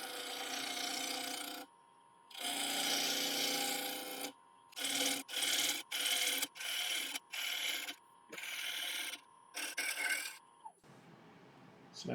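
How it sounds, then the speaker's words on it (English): A 3/8 ball gouge cuts an Irish walnut platter blank spinning on a wood lathe, bringing it round in about eight loud rasping bursts of cutting separated by short pauses, with a faint steady whine from the lathe beneath. "I'm using a 3/8 ball gouge."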